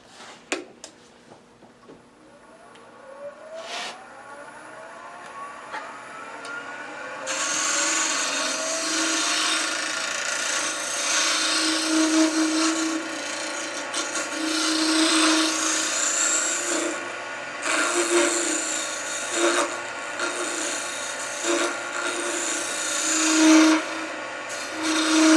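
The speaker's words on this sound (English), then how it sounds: "So that's a negative rake scraper" A negative rake scraper cuts into a wood workpiece on a lathe, a steady rasping scrape that starts after a quiet stretch with a faint whine and then runs loud and continuous, swelling and easing with each pass.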